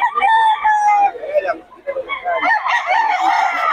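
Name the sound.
White Leghorn rooster crowing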